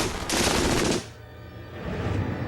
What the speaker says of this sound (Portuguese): A MG-42 é tão rápida que não se pode ouvir seus tiros individuais.